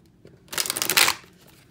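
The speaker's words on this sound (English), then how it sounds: "I cannot shuffle these cards." A deck of tarot cards is shuffled in one quick riffling burst of papery flutter lasting about half a second, close and clear in a quiet room, with no voices.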